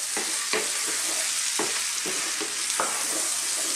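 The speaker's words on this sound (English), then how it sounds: "I just want to cook the powders for a couple of minutes." Spice powders sizzle and fry with beef and chickpeas in a pan for an Indian curry, with steady loud crackling and a few scraping stirs sliding them around, no talking.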